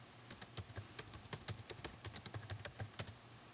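Quiet, rapid clicking of computer keyboard keys as a file name is typed, an irregular stream of light taps close by with a faint low hum underneath.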